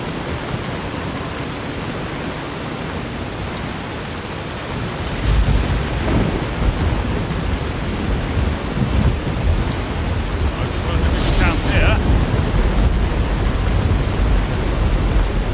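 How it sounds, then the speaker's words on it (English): Thunderstorm with rain in Fallout New Vegas: steady rain hiss, then heavy thunder rumbles rolling in and swelling, with a sharp crackling crash partway through, loud and close. "Except for all the horrid storms going on."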